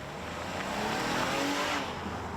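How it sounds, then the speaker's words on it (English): A 2022 Nissan Pathfinder's V6 engine roars steadily as the vehicle accelerates on the road, a broad rushing drone with road and wind noise, fairly close and without voices. "the power and the sound of a V6"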